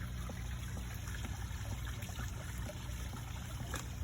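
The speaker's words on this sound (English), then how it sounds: "you start to hear the stream slowly slowing down" Water from a pond stream trickles steadily as the pond pump shuts off and the flow eases, a faint, continuous liquid wash with no talking.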